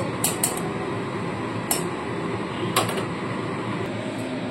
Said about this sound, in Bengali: এখানে গ্যাসে আমি একটা কড়াই বসিয়ে দিচ্ছি, আর কড়াইতে কিন্তু দিয়ে দিচ্ছি সাদা তেল